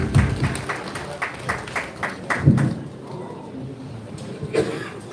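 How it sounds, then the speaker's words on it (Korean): A crowd at a Korean book-launch event applauds a welcoming guest, scattered claps and thuds under a murmuring hall, with a few louder bursts early before the clapping thins out. "큰 박수로 환영해 주시면 대단히"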